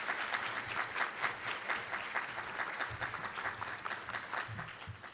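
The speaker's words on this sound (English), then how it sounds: "Give Professor Saunders a big round of applause." An audience claps steadily for several seconds, a dense patter of many hands at moderate distance with no talking.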